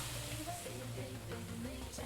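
Onions frying in a pan in the Venba cooking game give a steady, soft sizzling hiss that runs throughout, with faint tonal background sounds beneath it.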